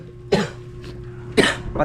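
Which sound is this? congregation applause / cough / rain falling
cough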